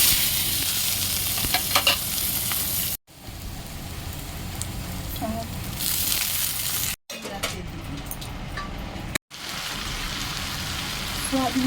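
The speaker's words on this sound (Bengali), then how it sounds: "এবার কলমি শাক ভাজবো" Water spinach fries in hot oil with dried chilli, onion and garlic, a loud continuous sizzle with stirring scrapes, broken by three brief silent gaps.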